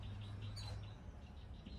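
Birds chirp faintly with a few short tweets outdoors beside a bench in Ashland City, Tennessee, over a low steady background hum.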